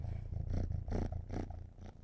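A cat purring close by, a low rumbling purr that swells and fades in steady rhythmic pulses, with no talking.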